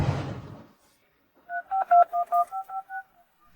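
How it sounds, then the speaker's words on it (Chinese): A telephone keypad is dialed, giving a quick run of about eight crisp touch-tone beeps in steady rhythm, close and clear, after a brief muffled rustle. "等着吧，我现在就打电话"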